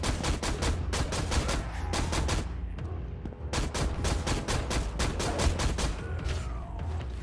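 Rapid gunshots fire in a Battle Talents video game, repeated bursts of loud, sharp cracks in quick succession with brief pauses between volleys.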